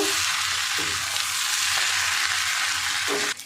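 Potato, egg and pasta stirred with salt in a frying pan give a continuous bright sizzle, overlaid with a few soft, rhythmic scraping strokes of the utensil and a sudden drop near the end.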